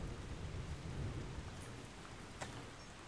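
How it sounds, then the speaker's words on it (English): Steady, dense rain in the Dawn of War Dark Crusade video game hisses evenly throughout, with a low rumble underneath and a brief sharper crackle near the end. "Ah, the sound of rain is nice."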